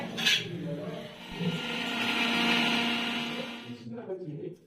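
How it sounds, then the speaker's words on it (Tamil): Electric mixer grinder whirring steadily for several seconds while grinding ginger garlic paste in a home kitchen, rising and then cutting off, with voices briefly around it. "இங்கே இஞ்சி பூண்டு பேஸ்ட் அரைக்க போகிறாங்க"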